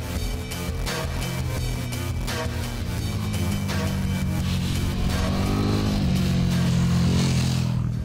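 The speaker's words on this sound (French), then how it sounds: "c'est de la musique d'entendre passer la KTM Super Duke GT 1290" A KTM 1290 Super Duke GT motorcycle runs past at the Montmagny autodrome racetrack, its engine a loud, steady roar that rises in pitch as it approaches and holds strong throughout.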